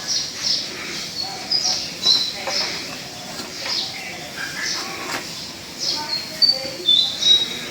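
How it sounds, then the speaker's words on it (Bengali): Morning birds call in short, high chirps and whistles that repeat irregularly throughout, faint and somewhat distant over a quiet background. "সকালবেলার পাখির ডাক হইলো"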